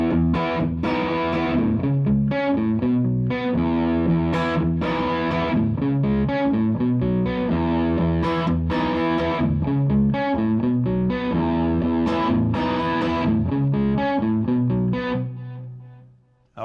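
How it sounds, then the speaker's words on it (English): Distorted electric guitar playing palm-muted chords through effects, loud and steady with chunky rhythmic strums for about fifteen seconds before cutting off, no talking. "you'll really hear how this palm muting brings the definition of the chords out when I'm using distortion."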